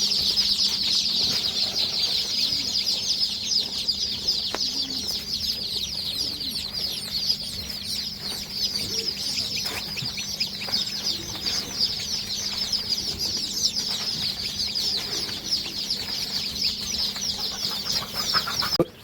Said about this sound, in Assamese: এয়া হৈছে পোৱালিবোৰ